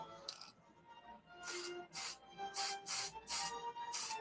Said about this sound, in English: Spray under my bench